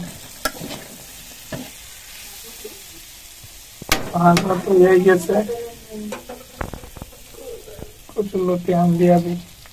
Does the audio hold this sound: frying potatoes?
yes